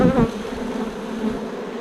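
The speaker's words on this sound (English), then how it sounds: "These are beautiful bees." Honey bees buzz around a beehive in a continuous, close drone, slightly louder at the start, with no voices.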